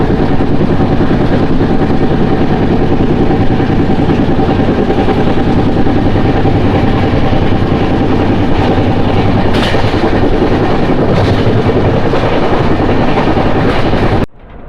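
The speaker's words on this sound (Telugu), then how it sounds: "నారాయణపురం స్టేషన్ స్కిప్ చేస్తున్నాం." A Garib Rath express train runs through a station without stopping, with continuous loud rolling wheel noise and clickety-clack over the rails, steady throughout with a couple of brief higher squeals.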